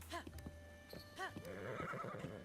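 A horse in Zelda: Breath of the Wild neighs twice, clear and close, and then its hooves clop in a steady running rhythm as the second whinny fades.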